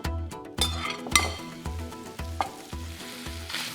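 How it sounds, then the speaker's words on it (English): Onions hit a smoking-hot skillet and sizzle hard, with rhythmic clinks and scrapes of a utensil against the pan at roughly half-second intervals, close and clear. "When the skillet is smoking, it's time to throw it in. Okay, and in go the onions."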